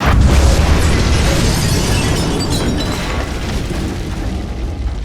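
A large explosion as a semi truck is launched in Marvel's Civil War, a loud deep boom with crackling debris that slowly fades over several seconds.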